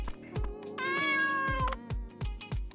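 Cat Inky meowing in the video game Dave the Diver: a series of clear, close meows with a long drawn-out cry in the middle, set against rhythmic game music thumps.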